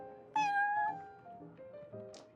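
Prince the cat from Genshin Impact gives a clear, close meow followed by a couple of softer, shorter trailing mews, heard alone without talk.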